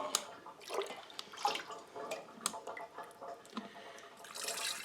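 Homemade apple scrap vinegar being strained into half-gallon jars, heard as faint trickling and dripping liquid with light splashes and clinks, close and quiet.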